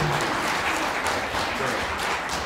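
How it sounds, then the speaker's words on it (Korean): Steady, full audience applause at a Korean art song concert, welcoming a guest introduced from the stage; dense clapping runs loud and even through the whole stretch with no voices on top. "박수 한번 큰 박수 한번 주세요"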